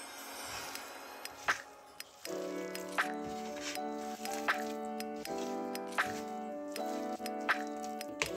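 Hands knead a chicken and potato cutlet mixture with gram flour, giving soft wet squelches that repeat at a fairly even pace over steady tonal background music.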